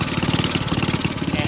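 A vintage Briggs and Stratton small engine runs with a fast, steady chugging pulse close to the microphone. A voice murmurs faintly underneath.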